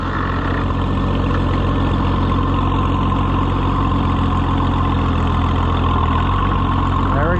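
Oliver 77 tractor engine idling steadily with a low, continuous rumble, a faint rhythmic pecking knock running through it; near and loud throughout.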